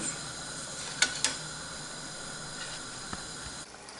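Butter simmering in a pot to make clarified butter (ghee) gives a steady, fairly quiet hiss, broken by two sharp pops close together early on and a few faint ticks later, with no voices.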